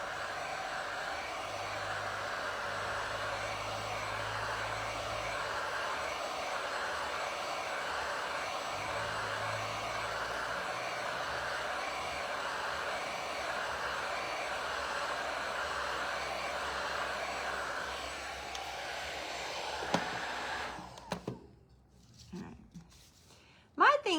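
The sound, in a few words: hair dryer heating WoodUbend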